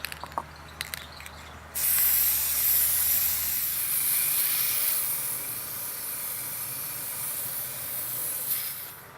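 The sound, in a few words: spray paint spraying from a can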